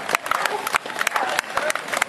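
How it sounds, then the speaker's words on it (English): A crowd at the 2013 British National Cyclo-Cross Championships women's race gives a round of applause; scattered claps sound moderately loud outdoors for a couple of seconds. "Ladies and gentlemen, I'd like to give a nice sympathetic round of applause for the settle."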